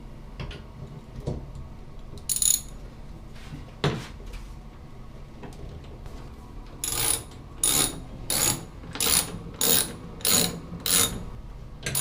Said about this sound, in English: I think we're gonna need the ratchet set now.